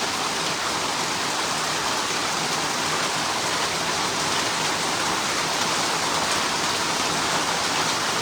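Steady heavy rain pours down without a break, a dense, even hiss of drops close by with no voices.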